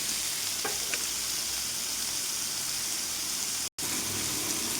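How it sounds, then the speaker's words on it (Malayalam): Onion, capsicum and tomato sauté in a hot pan, giving a steady, loud sizzle that fills the whole stretch and breaks off for a brief moment near the end. No one speaks. "സവോളയും ക്യാപ്സിക്കും തക്കാളിയൊക്കെ വാടിയിട്ടുണ്ട് കേട്ടോ"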